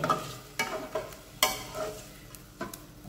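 A spoon scrapes and knocks around a pot of doi murgi, yogurt chicken, in several irregular strokes, close and fairly quiet, with no talking.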